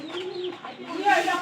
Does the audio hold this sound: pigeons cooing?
yes